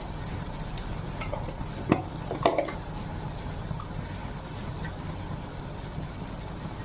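Ground spices, cumin among them, cook in a pan for a duck egg curry, a low sizzle under a few sharp scrapes and clinks of a spoon against the pan around the two-second mark, then quieter stirring.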